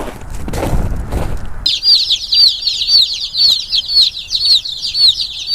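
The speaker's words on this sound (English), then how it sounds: "I feel like it's time for another mid-afternoon check of the chicks." Baby chicks chirp constantly close by, shrill rapid peeps in a dense repeating stream, following a brief burst of rustling and handling noise at the start.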